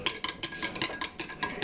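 A spoon clinks rapidly and rhythmically against a cup or glass, stirring a drink sweetened with just under a teaspoon of honey, close and fairly quiet, with no voices.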